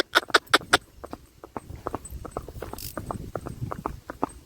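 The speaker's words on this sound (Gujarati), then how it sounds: "ઝીણી હાલે ઘોડો બહુ સારી" Horse hooves clip-clop at a steady walking pace, starting with a few sharp loud strikes and settling into a quicker run of lighter, even hoofbeats close by.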